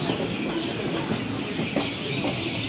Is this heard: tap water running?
no